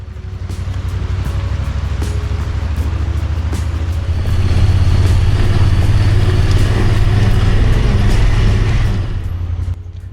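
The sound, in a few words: Honda Pioneer 1000 UTV driving on trail, Kenda Klever XT tires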